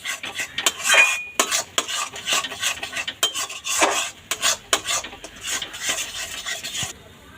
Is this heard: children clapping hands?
no